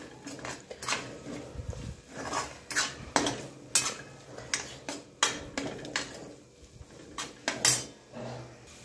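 A spoon stirs red chili powder, garam masala, mutton masala and coriander powder in a pan for hotel-style chana masala, giving irregular close clinks and scrapes of metal on metal with no talking.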